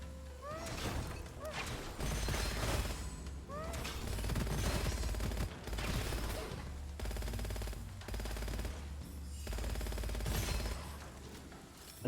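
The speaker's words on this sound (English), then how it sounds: "I just love the fact that I can shoot infinitely." Rapid, continuous gunfire from the video game Gunfire Reborn, sustained bursts of shooting layered with game effects and crashes, loud and dense across the whole stretch with brief gaps between volleys.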